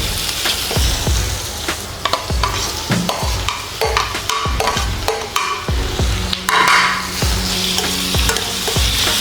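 Onions and tomatoes sizzle and fry in a pan for squid masala while a spoon scrapes and stirs repeatedly, clattering against the metal in an uneven rhythm, close and clear with no talking.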